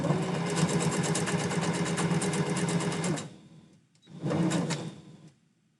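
Sewing machine stitching a stuffed floor-dragger tail, a rapid rhythmic clatter running about three seconds, a short pause, then a second brief burst, close with no voices.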